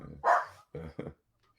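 A pet dog barks indoors during a home commentary of a pool tournament: two or three close, fairly loud barks in quick succession, then quiet.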